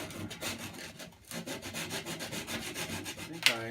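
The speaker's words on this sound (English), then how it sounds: "Some 150 grit sandpaper here." A wooden bowl from a wrapped bowl project is sanded by hand with 150-grit sandpaper, giving a close, continuous rhythmic rubbing with fast back-and-forth strokes and a sharp scrape near the end, with no talk.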